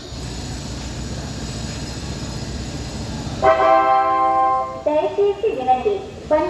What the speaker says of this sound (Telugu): అక్కలు ఎక్కాల్సిన ట్రైన్ అయితే వచ్చేసిందండి